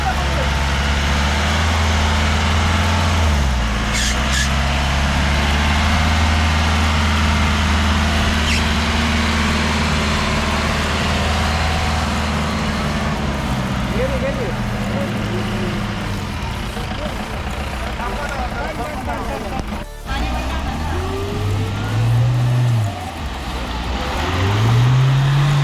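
A Suzuki Jimny's engine idles and revs while off-roading in the Sahyadri hills, a steady low rumble with rising and falling revs, including a couple of surges toward the end, with people talking over it.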